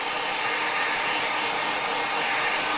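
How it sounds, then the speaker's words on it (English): Heat gun blowing hot air to dry craft material for a single-tier riser, a steady loud broadband whoosh held evenly throughout with no voices. "But this heat gun, boy, I love this thing."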